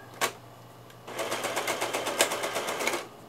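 A sewing machine runs briefly in reverse to lock the thread while making a souvenir pillow: a short tap, a pause, then a steady rapid needle chatter for about two seconds, close and fairly loud.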